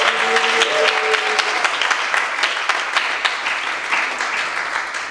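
Audience applause at an open mic slam poetry event, a dense sustained clapping from a crowd that stays steady and loud throughout, with no speech over it.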